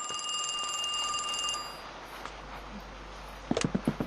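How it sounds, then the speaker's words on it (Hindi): A telephone rings inside a horror shop video game, a sustained electronic bell tone that holds, then stops partway through, followed by a few short clicks and knocks near the end. "फिर से फोन आ रहा है।"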